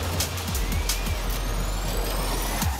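An electric single-gear Barbie Dream Car in Forza Horizon 5 accelerates with thin, rising electric whine tones over a steady low drone. The sound is continuous and close.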